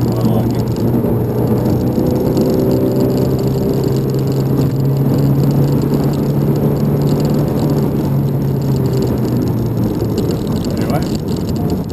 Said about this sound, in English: that's the car on the move